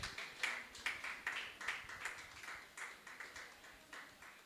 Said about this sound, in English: So maybe the applause was not loud enough.